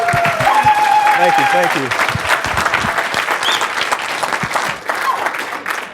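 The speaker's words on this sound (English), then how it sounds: "I want you guys all to stand up and give a huge round of applause to Mike" A conference audience claps loudly and steadily for Mike, the applause fading slightly as someone says a brief thank-you over it.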